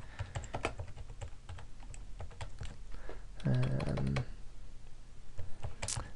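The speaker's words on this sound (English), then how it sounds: "So I'm just going to type ScreenMonkey tutorial" Close, rapid typing on a computer keyboard, an uneven run of crisp key clicks with brief pauses and a louder burst of strokes near the end.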